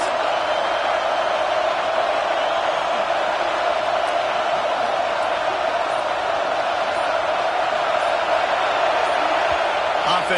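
Steady, loud roar of a college football stadium crowd at Clemson versus South Carolina, cheering on the defense on a third down in the red zone, a continuous wash of voices with no letup.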